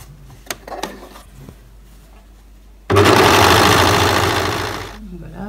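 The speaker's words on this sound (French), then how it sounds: "je vais pouvoir passer donc à la surjeteuse" A serger overlock machine sewing a skirt seam starts after a few quiet handling clicks, then runs as a fast, loud, steady mechanical whirr for about two seconds before slowing and stopping.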